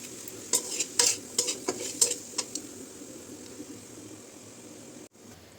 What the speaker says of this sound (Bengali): এখন এগুলো সব উপকরণ একসাথে ভালো করে মিশিয়ে নিয়েছি